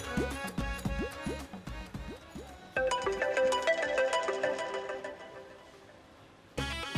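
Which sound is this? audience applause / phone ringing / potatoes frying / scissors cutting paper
phone ringing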